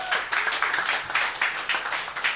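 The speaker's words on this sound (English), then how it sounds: "So give yourself a round of applause." A live music audience claps in uneven, pulsing bursts of applause, steady for a couple of seconds, with no talking over it.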